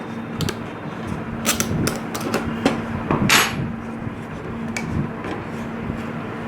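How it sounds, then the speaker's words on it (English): A hammer taps parts into notches while a hot wire CNC frame is assembled, a string of light, sharp close knocks at an irregular rhythm, a few clustered together and others spaced apart. "the hammer used to fit in the notches"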